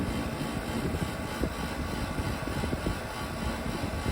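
A dual-duct portable air conditioner gives off a steady, loud broadband hum with a low rumbling rattle running continuously throughout.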